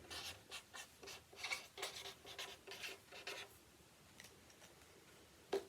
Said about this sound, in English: you might like to write your name